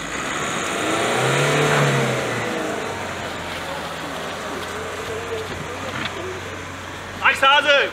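A car stuck in snow at Hoherodskopf revs its engine, the pitch rising and falling in a drawn-out surge, then settling into a steady drone, with onlookers talking nearby toward the end.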